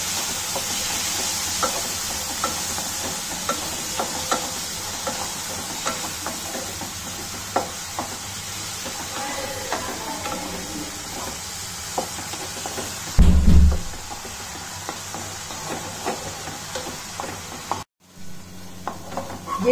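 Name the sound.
tomatoes being cooked and stirred into a puree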